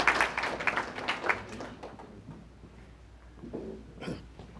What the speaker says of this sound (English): Give him a round of applause as he comes at this time.